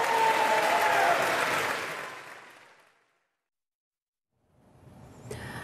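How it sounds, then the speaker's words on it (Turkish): Applause from a standing audience in the US Congress for Netanyahu: loud, dense clapping that fades out over about three seconds, a silent gap, then quieter clapping and crowd noise returning. "Bitiminde yine ayakta alkışlandı."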